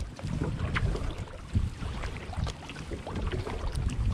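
A kayak paddled on open water, faint soft paddle splashes and drips at intervals under steady wind rumble across the microphone.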